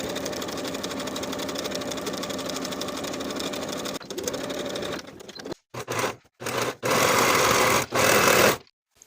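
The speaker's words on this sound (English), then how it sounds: "Sew from the top of the pocket to the seam with a 1/2 inch seam allowance" A sewing machine stitches a pocket seam on athletic shorts, running in a long steady whir for several seconds, then in short separated bursts with pauses between them.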